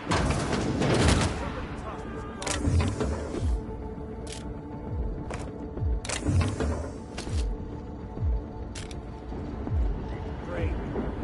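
Repeated gunfire bursts in the SongBird Adventures Space video game, loud mechanical clacks and booms recurring every second or so over a busy game soundtrack, with voices shouting at times.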